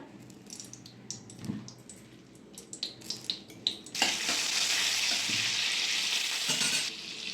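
Butter and a little white oil sizzling in a wok for chicken stew, a few sharp clicks and stirs first, then a loud steady hiss as it hits the hot pan, running evenly before easing near the end.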